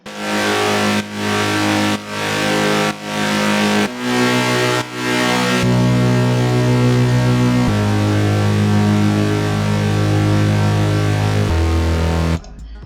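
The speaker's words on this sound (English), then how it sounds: "So I think, yeah, the bass line sounds like this." A heavy, sustained synth bass line from a track plays loud and dense, pulsing in even repeated hits at first, then holding long gliding notes that shift pitch in steps.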